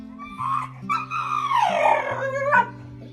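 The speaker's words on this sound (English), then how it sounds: "Not a bark, but something closer to a howl, almost like the roar of a dinosaur." A pitbull lets out a drawn-out, wavering howl that rises and falls, rough and almost roaring, heard close up with short breaks between cries.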